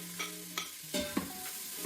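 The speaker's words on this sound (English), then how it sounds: "The oil's now hot, and I'll add the onions, and you can hear that sizzle" Steady sizzle of onions frying in hot oil close by, with a few sharp scraping clicks of a utensil stirring in the pan.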